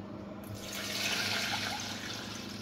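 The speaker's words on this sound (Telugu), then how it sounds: "½ లీటర్ వాటర్ వేయమన్నారు" Water pours in a steady, rushing stream into a pot of readymade payasam mix, close and continuous for a couple of seconds with no speech.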